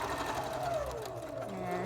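A sewing machine stitching pillowcase fabric hums steadily throughout at moderate volume, with a faint voice over it.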